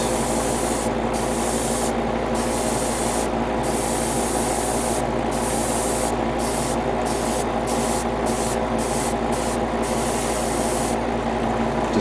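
Spray painting in Titan's Blue 1 onto an HG 1/60 ARX-7 Arbalest Gundam model kit: a steady airbrush hiss runs throughout, broken by a series of short bursts and brief pauses as the paint is applied in light passes, with no talking.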